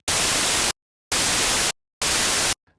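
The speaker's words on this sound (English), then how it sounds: "we can create a noise sweep just by turning this up" Synthesizer white noise played in three separate held blocks with sharp starts and stops and short silences between, loud and bright, no voices.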